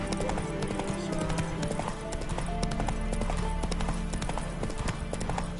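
Horse galloping in the video game The Witcher 3: steady rhythmic hoofbeats run continuously under a busy game soundscape with music and ambient effects.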